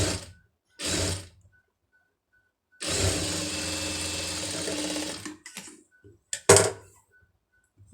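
A sewing machine stitches a puff sleeve in short bursts: two brief whirs, then a longer run of several seconds, then a few quick clicks and stops.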